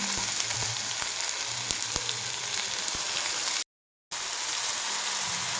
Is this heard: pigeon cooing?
no